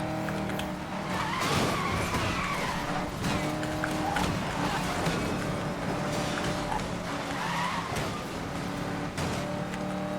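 A race car in the 2012 video game Need for Speed: Most Wanted roars at speed with a continuous revving engine, repeated tire squeals and skids, and occasional impact thumps, loud and close throughout.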